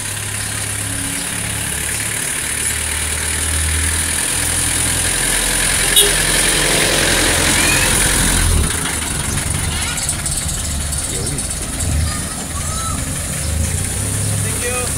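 A Toyota Vios engine hums at a low, steady level during a road test after L&T springs are fitted in Lipa, Batangas. The drone is fairly constant, with a brief rise near the middle, and voices come through faintly.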